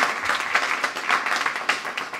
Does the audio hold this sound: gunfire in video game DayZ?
no